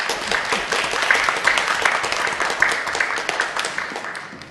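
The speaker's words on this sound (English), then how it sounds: "Let's give all of our panelists a round of applause." Steady applause fills the room after a career panel on library technician certification, a dense patter of many hands clapping at moderate loudness that tapers slightly toward the end.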